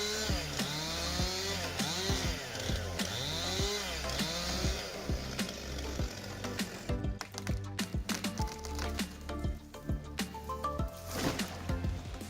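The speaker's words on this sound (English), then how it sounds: "A modern chainsaw that takes on the challenge of cutting down giant trees with precision and power" A heavy-duty chainsaw cuts through a giant tree, its engine repeatedly revving up and bogging down in rhythmic surges, then settling into a steadier, busier whine with crackling wood noise. The saw stays loud and close throughout.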